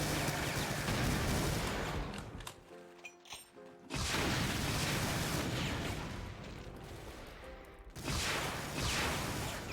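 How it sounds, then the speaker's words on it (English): Rockets launched and bursting in a Doom-style shooter running Brutal Mod, with heavy, loud explosive roars filling most of the stretch, broken by a short lull before the blasts resume and swell again near the end. "I'm just shooting rockets blindly into there"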